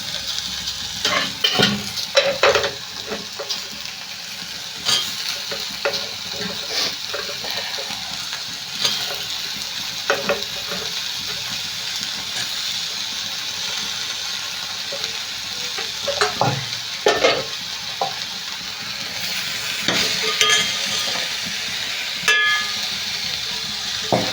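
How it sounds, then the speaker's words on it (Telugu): Raw mango pieces and jackfruit seeds fry with browned onions in a pan, producing a constant close sizzle and crackle broken by frequent scraping stirs and clanks of a spoon, with no speech. "ఇప్పుడు ఉల్లిపాయలు వేగిపోయినాయి కదండి దాంట్లో అయితే ఇవి వేసేసుకోవాలి మామిడికాయ ముక్కలు పంచకాయ గింజలు కూడా వేసేద్దాం"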